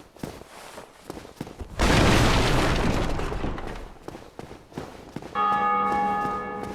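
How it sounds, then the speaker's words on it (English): A church bell tolls in Dark Souls Remastered, a loud ringing strike with long sustained resonant tones near the end, preceded by a broad booming swell and scattered game noises. "The super nice thing is hearing that bell this many times, that absolutely shows how many people are still playing."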